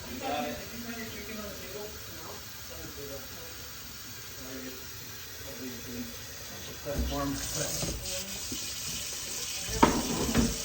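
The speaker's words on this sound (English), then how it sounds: "Yeah, we're refilling water." Tap water running into containers being refilled during emergency preparations, a steady hiss under background talk that grows louder and splashier near the end.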